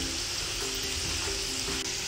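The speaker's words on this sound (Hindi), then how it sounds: "इनको ऑयल में हम 2 से 3 मिनट तक फ्राई करेंगे" Groundnuts frying in oil over a medium flame, giving a continuous close hiss and crackle at a steady level throughout, with no voices.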